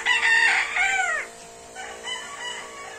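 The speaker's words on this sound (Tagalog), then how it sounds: "disinfect tayo mga bossing ng ating manukan. Ito, manok." Chickens in a poultry house, with a loud close rooster crow followed by softer clucking and calls from the flock.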